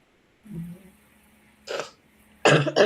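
Someone with a cold coughs and clears their throat: a soft throaty sound, then a short cough, then a louder double cough close to the mic, with quiet gaps between.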